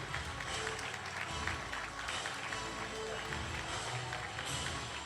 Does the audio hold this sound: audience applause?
yes